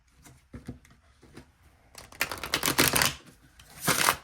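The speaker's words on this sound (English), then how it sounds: "Let me do one good shuffle." Cards tapped and riffled, starting with a few light clicks, then two longer bursts of rapid fluttering as the deck is shuffled up close.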